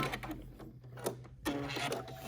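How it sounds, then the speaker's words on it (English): A sewing machine back stitches along the seam of a fabric face mask, giving a steady mechanical whir with short pauses where the stitching direction changes. "I'm going to back stitch."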